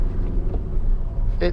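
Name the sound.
Honda Civic 2.2 i-DTEC engine auto start-stop restarting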